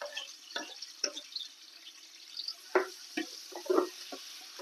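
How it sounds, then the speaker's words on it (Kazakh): Onion cut into squares frying in hot oil, a quiet scattered crackle and spit with soft stirring, faint and close, with no talk. "Енді 4 бұрыштап туралған пиязымызды салып қуырамыз."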